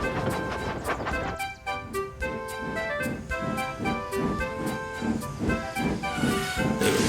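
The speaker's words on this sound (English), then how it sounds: "They were surprised to see not one, but 2 trains pull into the station." Steam trains pull into a station with hissing steam, rhythmic chuffing and clanking, and bright tonal whistle notes. The layered sound is moderately loud and continuous, with no voices.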